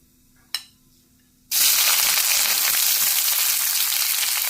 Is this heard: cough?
no